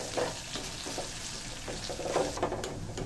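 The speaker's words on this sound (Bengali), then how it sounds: "একটা চামচ লাল গুঁড়া মরিচ দিয়ে দিচ্ছি এবং হালকা করে কিছুক্ষণ নাড়তে থাকবো" Chicken pieces frying with red chili powder while being stirred, a close steady sizzle broken by repeated soft scraping strokes of the spatula every half second or so.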